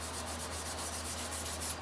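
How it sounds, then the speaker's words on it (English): Sandpaper rubbing back and forth over a painted wooden hammer handle, a close, steady scratchy rasp in quick even strokes, with no talking. "smooth the handle down a little bit so that when we seal it one more time, all the dust nibs are gone"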